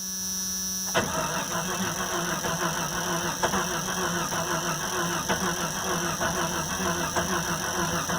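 A Jeep Cherokee XJ engine with a suspected crankshaft position sensor fault cranks and catches after about a second, then settles into a steady running hum with faint periodic ticks, near and alone under a constant electrical whine.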